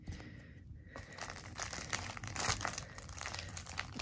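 A package being unwrapped by hand, tape peeled off with crinkling, crackling plastic and paper rustles, close up and fairly quiet, in a steady run of crumpling sounds without talk.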